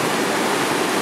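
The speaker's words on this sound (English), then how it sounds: "I don't know if you can hear me because this waterfall is so loud." A loud waterfall in Yosemite, a dense, steady roar of falling water filling the whole clip, close and unbroken, with no voices.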